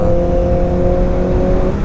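A Kawasaki ZX-10 motorcycle on the road gives a loud, steady engine whine at close range, holding one even pitch throughout with no voices.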